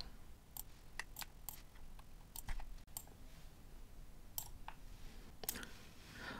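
Scattered mouse clicks while files are selected on a computer, a string of faint, sharp, uneven ticks over a quiet room hum with no voices.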